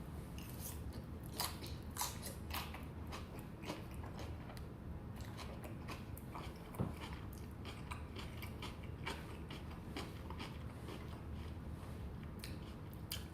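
Someone crunches through a salad of cabbage, cucumber, tomato, pepper and onions with dressing, giving steady close-up chewing with crisp, irregular bites throughout and no talking.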